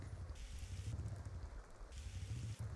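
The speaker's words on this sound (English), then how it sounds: "if it would stop raining" Steady rain falls in the Sims 2 Castaway video game, a continuous soft hiss of drops on surfaces, quiet and uninterrupted, with no talking over it.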